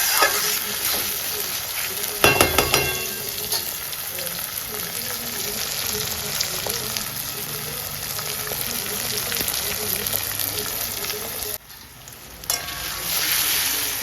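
Chopped tomatoes sizzling in hot oil in a pan in a Bengali home kitchen, a steady bright hiss with repeated scraping stirs, loud and close, briefly quieting near the end.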